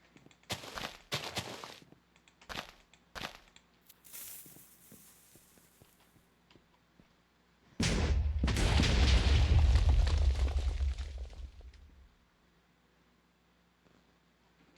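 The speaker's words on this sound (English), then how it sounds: "Jeez, I didn't think the explosion was that big." Minecraft Legacy Edition explosion: several sharp thuds and pops early on, then a big, loud blast at about eight seconds whose rumbling roar lasts roughly four seconds before fading out.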